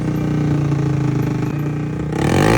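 A Mio motorcycle with a side-mounted setup and a new Zeus muffler revs loud and close, a dense, throbbing exhaust note that rises toward the end.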